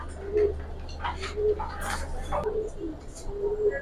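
Several soft, throaty coos from Giribaz pigeons in a loft repeat at irregular intervals under a steady low hum, with people talking nearby.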